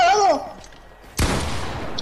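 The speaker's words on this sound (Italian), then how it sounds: "Ah, io sparo!" Gunfire from Fortnite, a loud broad burst that cuts in midway and holds as a dense blast after a spoken exclamation.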